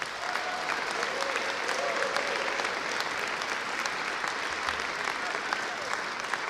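Dense, steady applause from an audience at the signing of Bill 2111, a continuous wash of clapping that holds at an even level for several seconds without pause.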